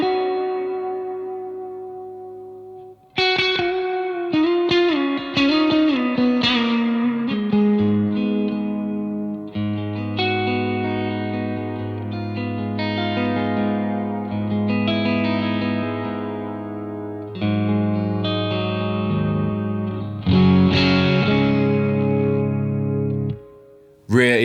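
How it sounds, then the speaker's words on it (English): An electric guitar played through a Keeley Hydra stereo pedal set to a plate reverb rings out in chords and notes, each sustained in a lush ambient wash that trails off at the end. "Sounds really, really nice, does that, as a sort of plate reverb"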